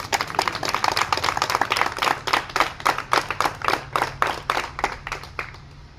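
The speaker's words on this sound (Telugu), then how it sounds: "ఒకసారి గట్టిగా క్లాప్స్ కొట్టండి అమ్మా." Audience clapping in a hall at a college social-impact event: loud, rhythmic claps in fairly even succession that thin out and fade toward the end.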